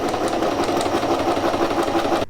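A domestic sewing machine, just cleaned and oiled, stitches a test seam on a small scrap of fabric with dark thread, giving a steady, close mechanical whir and rapid needle clatter throughout.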